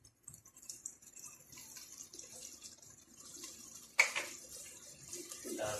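Water poured from a jug into a pot while cooking white lobia (black-eyed beans) in a home kitchen, a faint trickle that turns into a sudden louder splash partway through, with quiet background noise.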